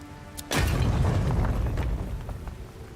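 A grenade explosion in the video game Avowed: a sudden loud boom with a rumbling low-end tail that lingers and decays over a couple of seconds, heard alone.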